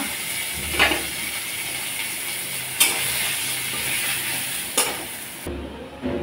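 Cumin seeds, bay leaf, ginger and dried chilli tempering in hot mustard oil for mung dal sizzle steadily up close, broken by a few sharp clatters of a stirring spoon against the pan.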